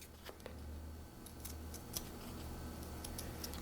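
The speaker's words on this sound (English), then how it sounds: "I'm going to cut this down a little bit more." Scissors cutting stiff felt for a fiber pumpkin embellishment, faint scattered snips and clicks close by over a quiet low hum, with no talking.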